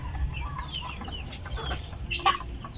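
Free-range crossbred heritage chickens, mixes bred from Black Australorp stock, cluck in a loose, irregular chorus with a few sharper calls standing out, fairly close and steady throughout.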